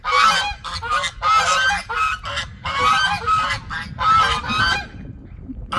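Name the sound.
geese honking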